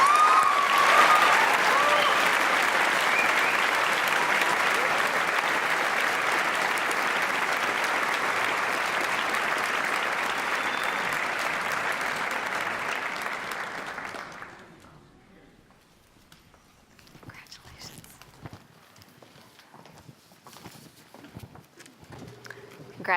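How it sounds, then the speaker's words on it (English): An audience at a scholarship awards ceremony claps steadily and loudly for a winner for about fifteen seconds, then the applause fades out, leaving a quiet room with scattered faint knocks and movement. "Let's give her another round of applause."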